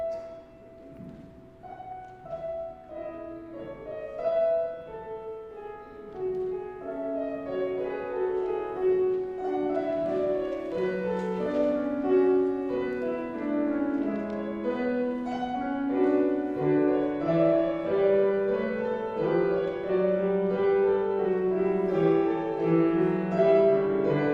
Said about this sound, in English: So all the voice parts put together with Paul start at 279, sound like this